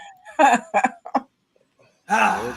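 A few short coughs in quick succession, close and fairly loud, followed by a pause and a breathy, laughing exhale.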